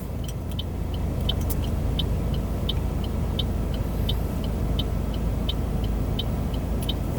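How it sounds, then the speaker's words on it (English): Street traffic in Honolulu heard from inside a waiting car: a continuous low rumble of passing cars, with a steady rhythmic ticking running through it at close range. "wait for these cars to pass by."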